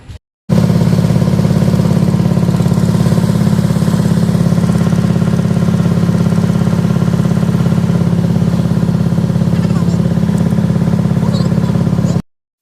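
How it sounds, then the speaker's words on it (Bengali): A river ferry boat's engine idles loudly and steadily, a constant low rumble that holds without change. "এখন হচ্ছে নৌকাটা ছাড়বে"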